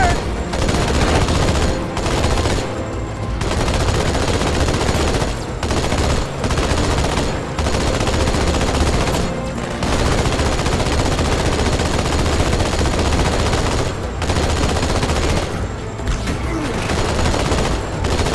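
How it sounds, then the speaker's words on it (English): Allied AI soldiers firing in the Halo 2 Outskirts mission, dense continuous automatic gunfire with bursts and single shots overlapping for the whole stretch, loud and close. "They actually shoot stuff for you."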